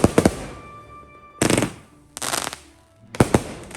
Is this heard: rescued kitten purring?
no